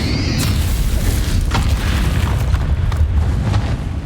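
A Bombarda spell explosion in Hogwarts Legacy hits as a loud, booming blast, followed by rumbling debris and crackling pops for several seconds.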